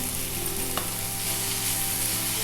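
Green chillies, coriander and mint sauté in a pan for a coconut kofta gravy, giving an even, close sizzling hiss with a faint stir or scrape partway through and no talking.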